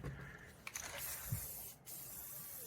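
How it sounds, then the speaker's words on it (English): Rust-Oleum 2X Ultra Cover paint and primer sprays from an aerosol can onto a rusted car at a car wash, a close steady hiss running the whole time with a brief break in the middle. "I'll show them though this Rust-Oleum 2X Ultra cover. paint and primer."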